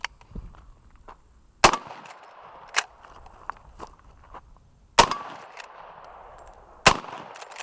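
Henry lever-action rifle fired at targets: four sharp, loud shots spaced irregularly with quieter clicks and footsteps of cycling and moving between them, outdoors.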